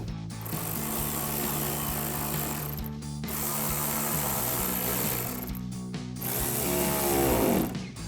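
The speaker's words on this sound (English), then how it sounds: "we'll tighten those down with our 10 mil socket as well." A ratchet with a 10 mm socket tightens fender-well bolts during an LED headlight install, giving steady close clicking runs broken by short pauses, with no talking.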